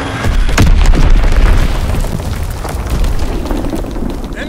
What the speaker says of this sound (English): Fritz X bomb mission underway.